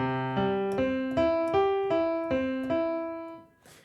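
Close piano notes step through a chord pattern at a brisk, even pace, about nine strikes over a held low tone, ending in a soft release.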